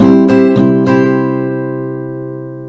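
Acoustic guitar strummed down and up with the fretting hand briefly lifting off to mute, giving a ukulele-like feel: three quick choppy strokes, then a chord left to ring and fade, alone and close.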